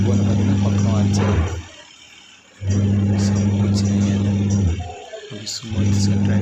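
Whirlpool semi-automatic washing machine running after a gearbox change, a steady loud motor hum with a strong low drone that stops briefly twice and resumes, with faint clicks over it.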